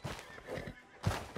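A horse whinnies briefly and at moderate distance in a quiet outdoor setting, a short rising neigh followed by a snort-like burst.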